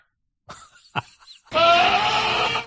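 Two short, sharp animal calls are followed by a loud, drawn-out goat bleat of about a second that sounds close and clear against silence.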